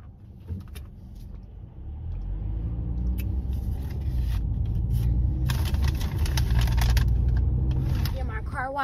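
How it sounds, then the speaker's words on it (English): A car washed by hand, heard from a seat inside the cabin: a muffled rumble with rising spray and scrubbing bursts against the body, building louder toward the end, with a faint voice. "I'm just sitting in the car getting my car washed by my friend"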